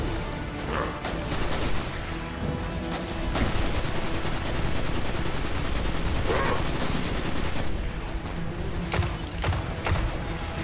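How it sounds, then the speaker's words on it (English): Hand cannon fire in the Destiny 2 video game, during a boss fight against Dominus Gaul, comes as a dense, continuous barrage of loud gunshots and blasts with no pauses. "Shot him in the face with a hand cannon and he's immune"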